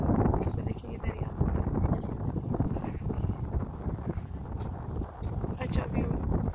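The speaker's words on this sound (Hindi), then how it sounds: "हवा चल रही है ना, कितनी ठंडी हवा" Cold wind blowing by a river near Sakhi Baba hill, a steady rushing buffeting of the microphone that stays loud throughout, with a voice talking over it.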